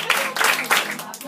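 Several people clap steadily in time to a lively children's worship song, the claps close and fairly loud, mixed in with singing voices.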